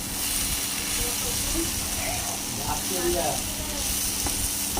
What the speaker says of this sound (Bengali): আর এখন এই দেখো করলা উচ্ছে ভাজা হচ্ছে।